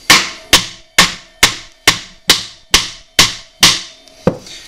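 Metal tapping on the threads of a Honda rear wheel bolt: ten sharp, ringing strikes at an even pace of about two per second, each one loud and close, with a brief decay between hits.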